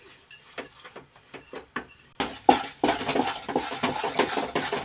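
Wheat flour roasting in ghee over a low gas flame, stirred with a spoon against the pan in steady scraping, clinking strokes, sparse at first and then continuous and louder.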